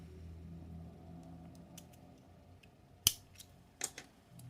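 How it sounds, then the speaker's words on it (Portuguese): Scissors snip through crochet yarn in a few quick, crisp cuts near the end, fairly quiet against a soft room background. "Você já pode estar cortando esse fio aqui."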